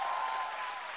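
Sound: audience applause at a concert

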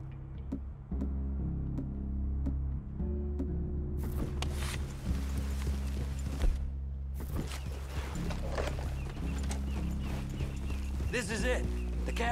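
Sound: horses walking in Red Dead Redemption 2 video game

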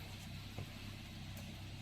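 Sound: Toyota Corolla Altis 1.6 CNG engine idling cold, about 900 rpm

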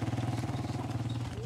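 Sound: motorcycle passing by

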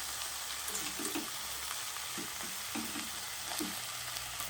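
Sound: tomato and potato pieces frying in pan

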